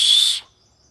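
An acorn cap whistle blown across the thumb knuckles gives one shrill, sharp, high-pitched blast lasting under half a second, then cuts off into near silence.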